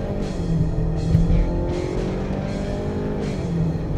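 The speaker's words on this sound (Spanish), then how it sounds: "este motor 2 litros turbo rápidamente llega a los 100 km por hora" A Ford Bronco Sport with a 2-litre turbo engine, in Sport mode, accelerates at full throttle to 100 km/h. The engine drones steadily and loudly from inside the cabin, with shift-like surges as it pulls, and no talk.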